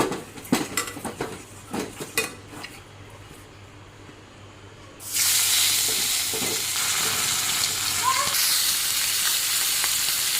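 Rohu fish pieces coated in turmeric and salt fry in oil, starting with clattering spatula and pan knocks over a light sizzle, then a loud, sustained hissing sizzle bursts up and continues steadily up close.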